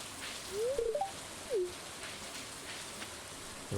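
Steady rain in Stardew Valley hisses softly and evenly throughout, with a few short bird chirps early on sounding above it.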